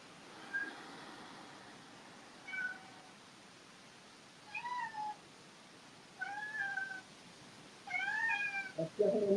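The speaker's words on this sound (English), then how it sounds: "The cat's going off." A cat gives a series of faint meows, five or six short calls spaced a second or two apart, quiet and at a slight distance against a hushed room.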